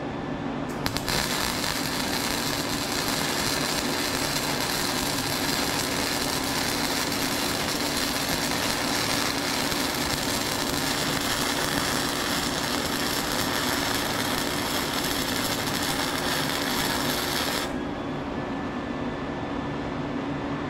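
Flux core wire welding with shielding gas on a repaired welder: a loud, continuous harsh crackling roar that starts abruptly and runs steadily for about sixteen seconds before cutting off.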